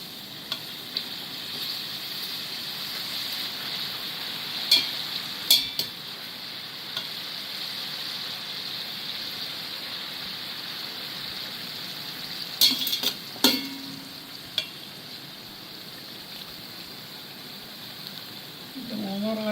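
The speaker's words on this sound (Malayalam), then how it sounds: "എണ്ണ ചൂടായിരിക്കുക, അതുകൊണ്ട് അടുത്തത് കൂടെ ഇടാൻ പോവാണ്" Food frying in hot oil, a steady close sizzle running throughout, punctuated by a few sharp clinks of a spoon against the pan, with occasional soft talk.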